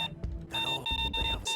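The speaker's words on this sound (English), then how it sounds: "they make a very loud and annoying beeping sound when they do so" Trip mine sensor in Payday 2 beeping loudly, a steady high electronic tone pulsing in short repeated bursts, sharp and insistent with brief gaps between them.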